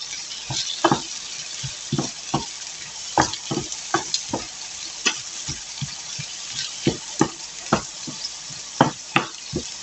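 A homemade hamburger patty fries in a pan with a steady broadband sizzle, punctuated by frequent sharp knocks and scrapes of a utensil against the pan, close and fairly loud with no talking.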